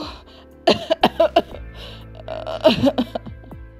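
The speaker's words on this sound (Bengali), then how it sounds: "আবার কাশি শুরু হলো।" Two close, harsh bursts of coughing, the first a quick run of four or five coughs, then a short pause before a rougher second fit.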